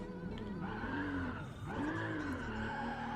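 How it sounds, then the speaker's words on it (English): Tires squeal and howl steadily during a slow-moving burnout in GTA 5 Online, the engine droning underneath as the screech wavers in pitch, dips briefly, then rises again. "So I'm doing a burnout right now."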